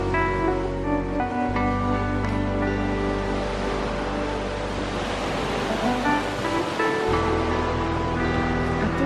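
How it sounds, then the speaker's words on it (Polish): Black Sea surf rolls onto the Ukrainian coast on a calm morning near a cliff, a broad continuous wash of waves with slight swells, steady and fairly loud with no voices. "Piękny poranek, przed nami morze, już dużo spokojniejsze dzisiaj"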